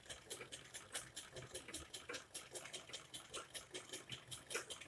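A sewing machine stitches along the neckline of a kurti, a steady run of rapid, even mechanical pulses that repeats throughout at moderate, close level with no talking.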